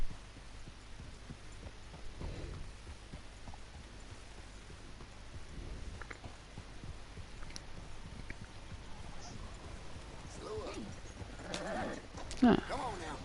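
Horse hooves clip-clop at an easy walking pace in Red Dead Redemption 2 on PS4 Pro, soft and fairly quiet in a sparse rhythm, with a brief louder sound near the end.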